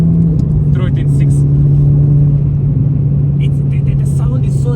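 A 2006 Renault Clio RS cruises in sixth gear on Namibian roads, its engine holding a steady, close, continuous low drone with a faint rise throughout.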